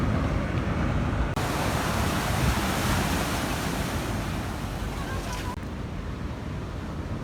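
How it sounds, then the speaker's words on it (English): Ocean waves surging along the shore at Puerto Vallarta, a loud continuous broadband roar with some wind buffeting the microphone and no talk over it. "By the way, look at those waves over there."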